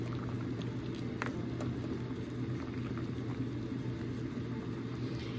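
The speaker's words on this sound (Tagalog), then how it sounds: "Isang pakulo na lang guys at luto na ito." A pot of striped bass soup with pechay simmers on the stove, giving a steady low bubbling rumble that stays even and continuous throughout.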